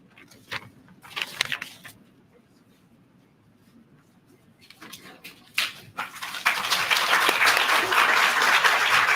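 Audience applause at a national microbiology conference as dignitaries on the dais unveil a souvenir volume: a few scattered bursts of clapping at first, then a full, sustained round swelling in and holding strong to the end.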